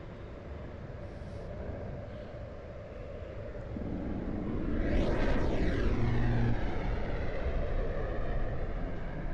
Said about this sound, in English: there's a jet whoosh and then kind of like a doo tone, but it's buzzing